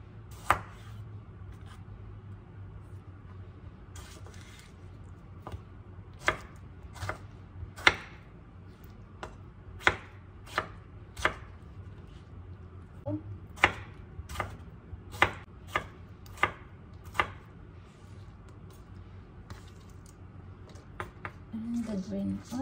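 Knife chopping garlic and tomato on a cutting board, a series of sharp, distinct taps coming in uneven bursts, some quick and some spaced apart, close by over a low steady hum.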